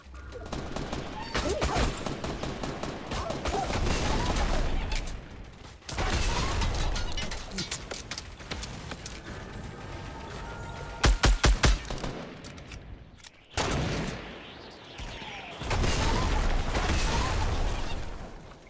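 Video game gunfire crackles in rapid automatic bursts, several long volleys separated by brief silences, with a few sharp, heavy single shots in the middle.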